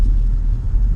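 A 2016 Ford Focus RS engine gives a deep, steady low rumble, loud and close, for about a second in a wintry setting.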